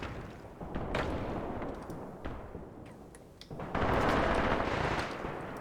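Heavy machine guns in Graviteam Tactics firing in sharp bursts of rapid shots, somewhat distant at first, then swelling into a denser, louder barrage mixed with rumbling battle noise.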